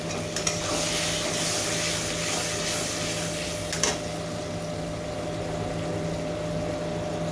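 Mutton curry sizzling steadily in a pan after a splash of water, with a continuous close hiss and a couple of brief stirring scrapes, no voices.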